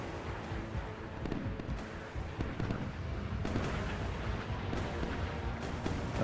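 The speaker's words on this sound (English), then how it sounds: "There's the gunfire." Naval combat in the video game Sea Power, set in the Taiwan Strait: sustained rumbling gunfire and explosions rolling together, with sharp bursts breaking through a dense, continuous roar.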